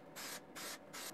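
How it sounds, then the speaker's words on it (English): An aerosol spray can, used while refitting car door mirror glass, hisses in three short, evenly spaced bursts, close and fairly quiet, with no talking. "Make sure that it sprays properly and that the spray is full"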